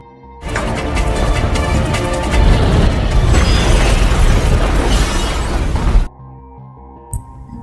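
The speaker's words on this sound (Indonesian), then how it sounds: "Bond berhasil keluar bersama Jones sebelum bom meledak" A loud bomb explosion in a James Bond film set in a silo, a sustained booming roar lasting several seconds before cutting off sharply, followed by a brief quieter impact.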